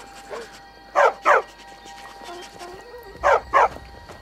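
A dog in the Skyrim video game barks close by in two pairs of sharp, loud barks, with soft quieter sounds between the pairs.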